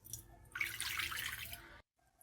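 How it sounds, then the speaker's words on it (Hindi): Water poured from a cup into flour in a bowl for pizza dough, a close steady splashing pour of about a second that stops abruptly, with a faint drip after. "आधा कप के करीब हमने पानी ऐड किया है"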